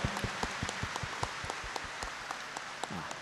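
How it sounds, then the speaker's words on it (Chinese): An audience at a Buddhist memorial ceremony in Malaysia claps in thanks for the volunteers, a sparse run of distinct hand claps at a moderate distance, with no speech over it. "我们掌声感谢啊所有护法义工们"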